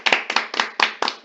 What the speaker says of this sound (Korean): 일단 박수 한번 치시죠